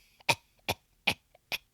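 Four sharp, evenly spaced coughs, a film character's put-on throat clearing over a stuck bone, each burst short and loud with brief quiet gaps between.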